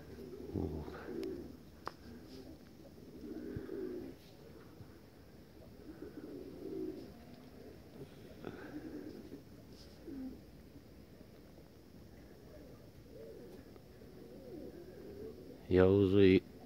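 A pigeon coos now and then in the open air, soft low calls recurring through the stretch over a quiet background, with a louder burst near the end.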